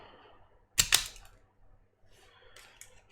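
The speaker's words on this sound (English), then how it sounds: "and strip the end of the cut one" A wire end has its insulation stripped with a quick, crisp double snip-and-pull burst, followed by faint handling sounds and a softer scrape near the end, all in a quiet room.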